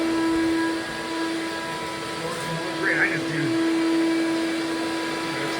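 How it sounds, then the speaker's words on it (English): A vacuum sucking clean water up off a floor during post-construction drywall dust cleanup, a steady loud motor whine with a constant tonal hum throughout, briefly gurgling as water is drawn in, while a person speaks over it. "I'm going to vacuum up that water"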